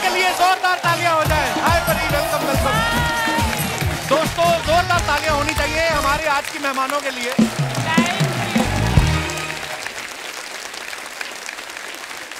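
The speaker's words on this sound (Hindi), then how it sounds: "परिजात के लिए जोरदार तालियां हो जाए" Studio audience at a Hindi comedy talk show gives loud, continuous applause for the arriving guests while the host speaks over it, and the clapping thins out near the end.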